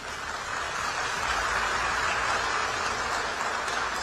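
A crowd gives loud, sustained applause for Modi's return, a dense continuous wash of clapping throughout.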